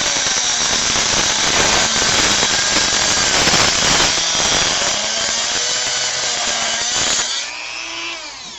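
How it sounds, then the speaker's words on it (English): A Dremel rotary tool fitted with a cutting wheel whines loudly and steadily for about seven seconds as it cuts, then winds down and coasts to a stop. No one speaks. "How cool is that for putting cutting wheels on your Dremel tool?"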